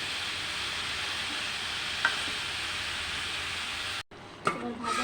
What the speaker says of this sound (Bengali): এবার ভালো করে মিশিয়ে নেবো মশলার সাথে লাউটা।